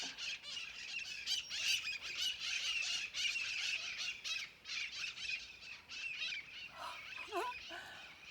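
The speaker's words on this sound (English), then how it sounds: "Those are the beautiful green jungle Amazonian parrots that are migrating" A flock of migrating green Amazonian jungle parrots squawking constantly, a dense, harsh chorus of overlapping calls that continues throughout with no gaps, a few distinct squeals near the end.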